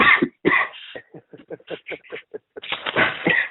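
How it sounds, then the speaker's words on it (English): Several harsh coughs up close, a couple of loud bursts at the start and a longer rough fit at the end, with broken throaty sounds in between. "Okay, I'm coughing."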